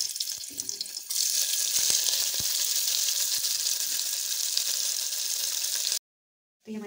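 Onions and paneer dropped into hot oil, giving a loud, steady broadband hiss and sizzle that starts abruptly and runs for about five seconds, then cuts to silence.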